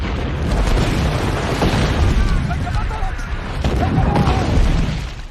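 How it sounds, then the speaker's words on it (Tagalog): Heavy booming explosions from enemy bombardment on the Karelian front in wartime, broad rumbling blasts swelling and fading in waves, loud and near, with a voice talking over them. "Ngunit biglang binomba ng kalaban ang kanilang lugar."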